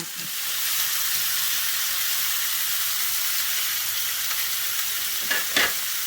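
Pears frying in butter in a pan give a steady, loud, bright sizzle that holds evenly throughout, with a couple of faint clinks near the end.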